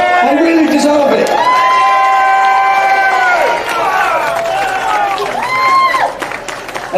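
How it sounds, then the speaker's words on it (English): Crowd at a Britain First rally in Birmingham applauding and cheering its speakers, loud sustained clapping with shouts and whoops mixed with voices over it. "Please give them a big round of applause."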